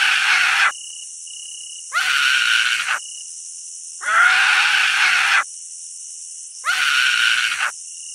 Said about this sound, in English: Who is screaming?